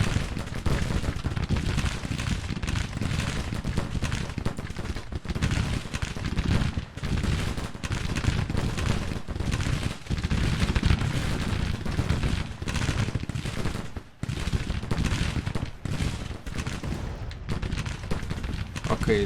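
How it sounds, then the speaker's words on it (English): Cannon and gunfire in a Grand Tactician: The Civil War battle, with dense, continuous volleys and booming shots rolling one over another for the whole stretch, loud and without pauses. "our cannons, firing at the enemy"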